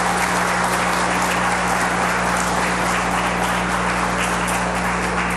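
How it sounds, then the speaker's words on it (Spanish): A crowd at a Dominican government presentation on formalizing domestic work applauds in a continuous, dense roar of clapping over a steady electrical hum from the hall's sound system. "Un aplauso a Luis Miguel también por su trabajo."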